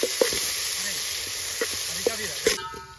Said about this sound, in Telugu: ఆనియన్స్ అనేది మంచి గోల్డెన్ బ్రౌన్ కలర్ వచ్చేదాకా వీటిని ఫ్రై చేసి